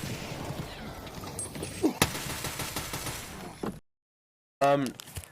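Gunfire in the shooter game Escape From Tarkov: a run of shots and impacts over the first few seconds, then a short silence and a final sharp burst.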